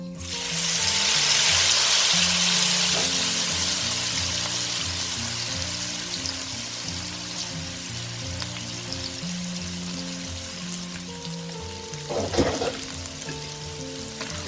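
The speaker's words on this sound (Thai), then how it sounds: "แล้วเราก็ใส่ลงทอดเลยค่ะ" Tiny dried fish fry in hot oil in a bright, loud sizzle that starts strong and slowly eases. A low hum runs underneath, and a short burst of bubbling and stirring comes near the end.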